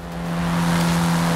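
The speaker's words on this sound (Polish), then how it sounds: "Jedzie to dakarowe Porsche" A Dakar rally Porsche driving in Forza Horizon 5, its engine holding a steady, swelling drone that rises slightly as it goes, with no talk.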